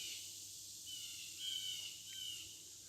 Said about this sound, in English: I'm just gonna give you all a second to listen to the cicadas and the birds.